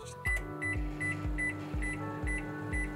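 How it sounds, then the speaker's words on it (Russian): A microwave oven heating sponge-cake batter in a glass bowl hums steadily, with a series of short, evenly repeated electronic beeps over the drone; no one speaks. "и отправляем в микроволновую печь на 3 или 4 минуты."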